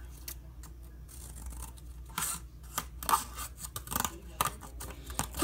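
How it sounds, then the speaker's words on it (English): Scissors snip a tiny square out of cardboard, a run of short crisp cuts in an uneven rhythm, close and fairly quiet, with small rustles between snips. "you are just going to cut out a tiny"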